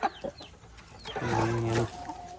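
Native country chickens on a home farm cluck and call in a short burst, with a louder drawn-out harmonic squawk near the middle, fairly close and alone without talk.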